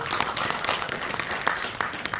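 A crowd at a Korean blockchain association's fifth-anniversary ceremony claps to welcome a speaker to the stage, giving steady, fairly faint applause with scattered sharp individual claps throughout.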